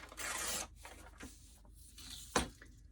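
Paper being ripped away from fabric while piecing a quilt block, a close, crisp tearing rasp followed by softer rustles and a sharp final tear.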